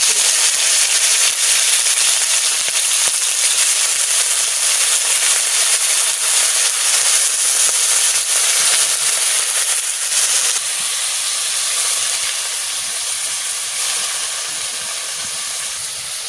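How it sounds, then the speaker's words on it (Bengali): Shrimp frying in hot mustard oil in a wok, a loud, steady high sizzle and hiss that softens slightly partway through, with no voices. "তেল গরম হয়ে গেছে, চিংড়ি মাছ দিয়ে দিচ্ছি।"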